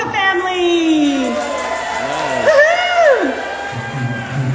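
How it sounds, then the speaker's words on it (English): Audience at a polka family band show at the Shrine of Our Lady of Czestochowa in Doylestown, PA, cheering and whooping loudly, with shouts and voices rising and falling across the crowd. "Having a nice round of applause for the Polka family."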